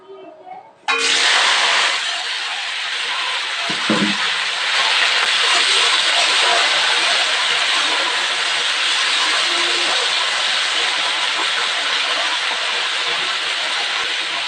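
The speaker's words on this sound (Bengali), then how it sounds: "তেল গরম হয়ে গেছে দিয়ে দিচ্ছি পুঁই শাকের বীজ আর আলু" Malabar spinach seeds and cut potatoes drop into hot oil in a wok, setting off a sudden loud sizzle that holds steady and close to the end, with one brief knock partway through.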